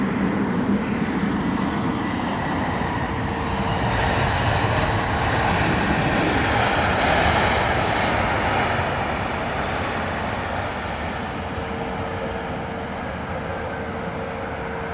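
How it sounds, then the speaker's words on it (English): A Lufthansa Airbus A320neo arrives at London Heathrow, its engine roar building to a loud peak midway, then easing into a steady, distant whine with a tonal hum and no speech. "As we see our Lufthansa A320 Neo arriving."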